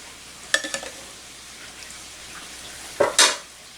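Homemade dog food being stirred in an Instant Pot: a few quick scraping, squelching strokes near the start, then a louder pair of scrapes near the end, close and alone with no talking.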